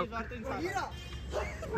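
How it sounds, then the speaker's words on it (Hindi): Two street dogs barking and yipping while squaring off with a cow, the barks sharp and fairly close, mixed with someone talking over them and steady low background rumble. "गाय और कुत्ते की लड़ाई हो रही है यहाँ पे ये दो कुत्ते और ये वो एक गाय"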